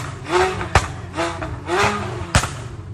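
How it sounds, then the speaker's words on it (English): A V8 hybrid car with a custom exhaust revs loudly in the street, rising roars repeating about four times with sharp pops and cracks between them, heard outdoors. "it's super loud as well with the custom exhaust, it definitely pops on the road"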